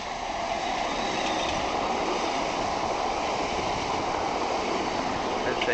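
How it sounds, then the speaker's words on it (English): A Class 465 electric train rumbles steadily through Catford station without stopping, close range, a continuous broad roar of wheels on rails with faint squealing, no voices. "this train is not stopping at this station"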